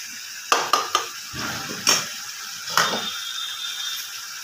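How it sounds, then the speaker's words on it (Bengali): Chicken meat being stir-fried in a pan, a series of sharp metallic spatula scrapes and clanks against the pan at irregular intervals over a faint background sizzle. "আবার একটু ভালো করে কষিয়ে নেব।"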